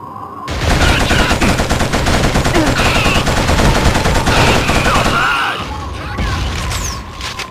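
Sustained automatic gunfire from a Killzone firefight rattles loudly and continuously for several seconds, dense overlapping bursts with booms, easing slightly toward the end while shouted voices mix in.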